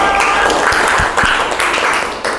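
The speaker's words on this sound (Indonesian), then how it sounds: "Beri tepuk tangan dong, tepuk kompak." A classroom group claps together in unison, a loud, rhythmic burst of hands striking in time, close and sustained for a couple of seconds with a few heavier beats standing out.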